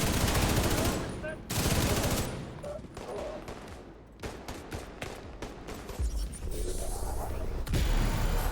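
Light machine gun fire in The Division 2 video game, loud sustained bursts of rapid automatic shots with brief pauses between volleys and a dense, close crackle.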